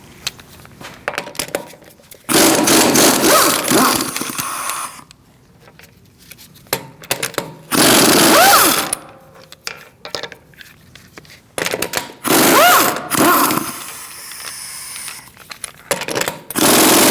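A power tool with a 17mm socket runs in loud, harsh bursts while removing the front wheel of a 2008-2014 Mercedes-Benz C300, separated by quiet pauses, each burst lasting one to three seconds.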